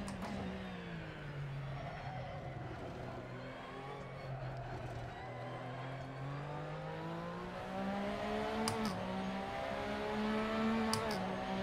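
A car engine in a sim racing game hums and whines steadily through the gears, its pitch rising and dropping with throttle, with short shift blips near the end, moderately loud and continuous.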